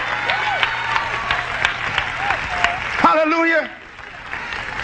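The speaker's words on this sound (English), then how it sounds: "Clap your hands and praise God." A church congregation claps hands in praise, a broad dense patter of many hands under a preacher's voice and shouts, then it fades quickly toward the end.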